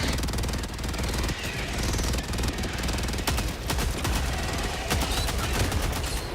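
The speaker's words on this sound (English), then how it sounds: "Don't mind the drilling sound." Loud mechanical drilling in the video game Helldivers 2, heard amid rapid bursts of gunfire and chaotic combat noise that run continuously over the whole stretch.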